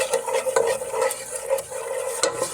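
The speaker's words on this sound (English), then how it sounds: "So I'm gonna stir this thing" Ingredients for nsha, a thick paste for Nigerian nkwobi with cow foot, being stirred in a pot: a steady scraping, churning rhythm with small clinks, close and fairly loud, with no talking.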